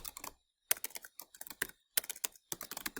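Typing on a computer keyboard while entering spreadsheet cell text, a quick run of close, crisp key clicks in uneven bursts with short pauses between them, heard alone without any talk.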